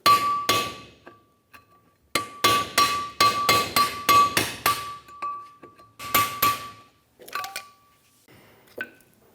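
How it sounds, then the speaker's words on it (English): Hammer striking a pry bar or chisel to drive the seal off the back of a brake rotor on a Ford E-350 Super Duty, sharp metallic clanks in quick bursts with brief pauses between groups. "Use a pry bar or a chisel, whatever you have, and a hammer, and remove this seal off of the back of the rotor"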